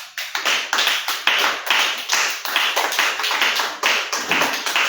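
A church congregation applauding in rhythmic unison, steady loud claps about three per second that carry on with no talking over them.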